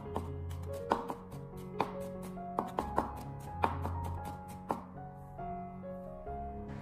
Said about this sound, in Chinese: 接着，我们再将它改刀切成蒜末